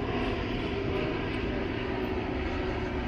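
A United Airlines airliner flies overhead, giving a steady, broad, rushing roar that holds at an even level throughout, with no voices.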